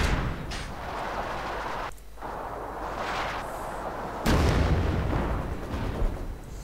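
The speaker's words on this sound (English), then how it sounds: "And just more heavy artillery going out from the Russians." Heavy artillery in the World War II strategy game Company of Heroes 2 pounds away in a steady, dense barrage of booms and rumbling blasts, with a louder burst of impacts in the second half.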